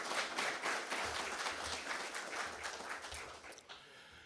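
A crowd at a town inauguration ceremony applauds in a fairly quiet, somewhat distant round of clapping that swells early, then gradually thins and tapers off toward the end.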